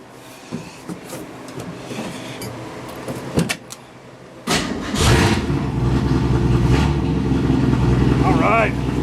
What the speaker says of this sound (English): New starter's in. If this doesn't do it, might be the end of the road for this episode.